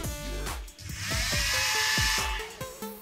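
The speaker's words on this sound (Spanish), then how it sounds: "Como ven, el motor gira con libertad." A repaired small gear motor from a motor-reducer whirs steadily at close range, a high continuous electric whine with a series of rhythmic clicking knocks running under it.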